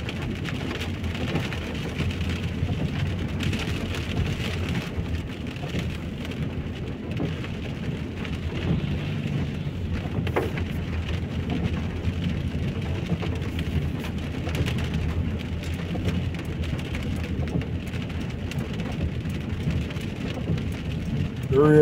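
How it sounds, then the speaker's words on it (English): Heavy rain pours steadily over Lewsey Farm in Luton, UK, a dense continuous wash of drops on surfaces with low rumbling underneath, unbroken throughout and with no talking. "The rain really decided to fall today."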